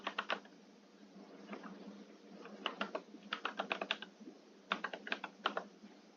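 Rapid bursts of keystrokes on a computer keyboard while a registration form is filled in, clustered clicks coming in quick runs with short pauses between them, close and fairly quiet, with no voices.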